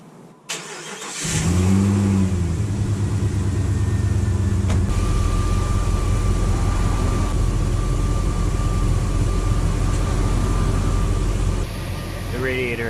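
A stock Jeep with a cracked radiator starts up after a faint click, then its engine catches and settles into a loud, steady idle and run that drops slightly near the end.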